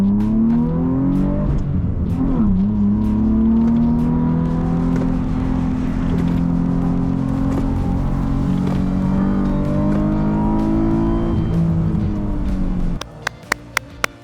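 A rallycross race car launches hard with the throttle flashed, its engine note climbing and holding loud and close for most of the run, then cutting out abruptly near the end, leaving a few sharp ticks and clicks.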